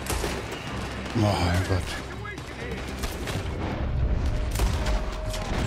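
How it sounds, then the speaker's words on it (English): Gunfire and a blast from an oil wagon being shot in Red Dead Redemption 2, with bursts of shots and booming thuds over a steady game soundscape while a person exclaims. "gun them down, and let's get the hell out of this place! Shoot that oil wagon!"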